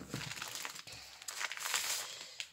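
Mixed media paper pack being unwrapped, its plastic wrapper giving off a close, continuous crinkling and crackling rustle with brief tearing bursts, heard alone without talk.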